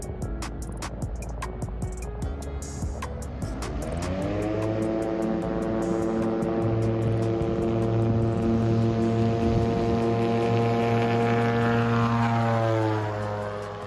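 A Titan T-51 Mustang propeller aircraft passes close by, its engine rising from a broadband rush into a loud, steady droning hum with strong harmonic tones that hold for several seconds before easing slightly.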